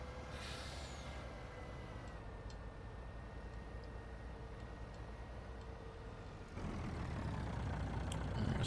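An old Kenworth logging truck in Farming Simulator 19 idles with a low, steady engine drone and faint ticking, and then a loud air-brake hiss bursts in near the end, over quiet background ambience.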